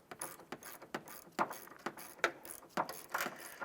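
Ratchet tightening strut bolts on a 2006-2011 Honda Civic, rapid clicking pawl strokes repeated in a regular rhythm about every half second, close and fairly quiet, with no talking.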